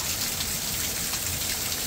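Heavy rain falling steadily, a dense, continuous hiss of drops on surfaces with no pauses, close and fairly loud, no voices.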